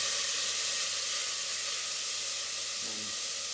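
Cumin seeds, cinnamon seeds and harissa paste sizzle in hot olive oil in a pan, a steady bright hiss throughout with a brief stirring scrape near the end.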